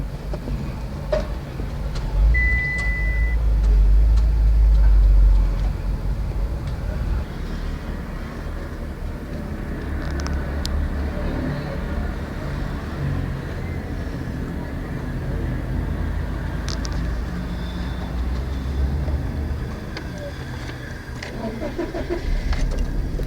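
A 2007-2017 Mitsubishi Lancer engine idles steadily after ECU programming, giving a continuous low rumble that swells slightly near the start and then holds even throughout.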